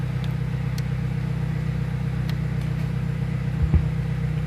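A VW Gol G2 car engine running at idle, a steady low mechanical hum and drone throughout with a brief bump near the end, heard alone without talk.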